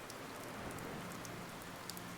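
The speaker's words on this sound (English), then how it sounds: "the rain has intensified, drumming a steady, hypnotic beat upon the dozens of antique window panes." Steady rain drums on old glass window panes, giving an even, dense hiss with occasional sharper drops and no voices.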